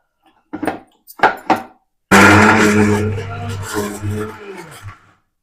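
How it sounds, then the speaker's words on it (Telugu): After a few quiet knocks and handling sounds, a mixer grinder blending tomatoes and spices with water starts abruptly. It whirs loud and close, holding a steady motor drone before winding down. "దీంట్లో కొద్దిగా వాటర్ వేసుకొని మిక్సీ పట్టాలి"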